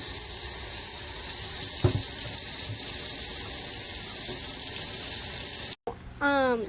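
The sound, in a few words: rinsing cut potatoes for French fries in water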